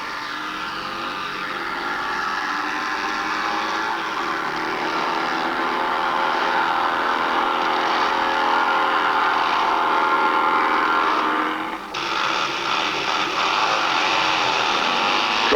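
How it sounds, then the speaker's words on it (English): Hound Dog 2 dragster with a Wade-supercharged, methanol-fed Mark 7 Jaguar engine running at a 1960s UK drag strip, a sustained loud mechanical roar building slightly, then a brief drop near the end before resuming. "replaced Nobby's first dragster from '64 and used the same Mark 7 Jag engine with the addition of a Wade blower in front, which was fed methanol by 3 SUs"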